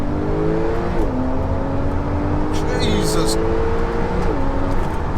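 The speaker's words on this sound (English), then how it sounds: "Listen to it. Stock exhaust, stock power, and we're flying." A Porsche 911 Turbo S with stock exhaust revs and accelerates hard with shifting pitch, loud and close, while a person speaks over it.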